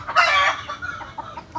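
Farm chickens give a short, loud squawk followed by several softer, clipped clucks spaced out after it.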